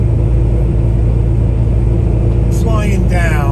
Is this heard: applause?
no